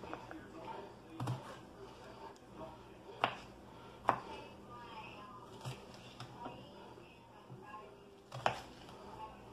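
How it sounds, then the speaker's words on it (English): A knife cuts peppers on a board in a home kitchen, giving sharp, irregular taps and chops at moderate distance, spaced unevenly over a quiet background. "I'm just cutting them down because they will shrink a little as we cook them in the pan."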